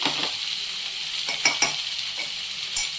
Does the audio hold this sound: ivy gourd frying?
yes